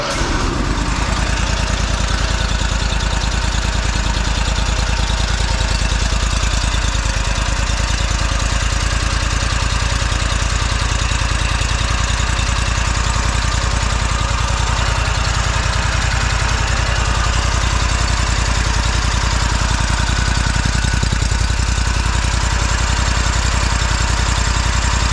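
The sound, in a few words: zero turn mower engine idling after tune up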